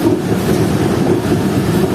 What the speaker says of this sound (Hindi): हमारी ट्रेन पहुंच रही है घोटकी रेलवे स्टेशन पर